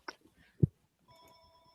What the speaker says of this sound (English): Of course, I show up and the phone rings.